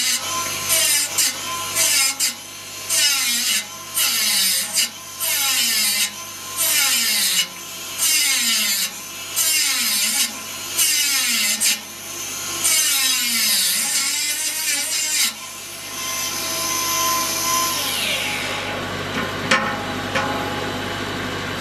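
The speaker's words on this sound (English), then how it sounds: "It's got a little grinding wheel. Turn it on, and then you use this knob to advance or retract the grinder" A small grinding wheel sharpening the blade teeth of a mobile Dimension sawmill, giving a series of evenly spaced rasping strokes, one per tooth, close and fairly loud, followed by a longer sweeping grind near the end.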